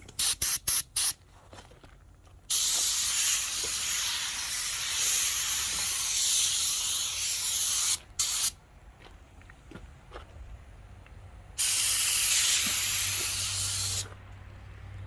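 Long loud hisses of an aerosol spray can painting car parts in several bursts, separated by pauses and rattling clicks of the can being shaken.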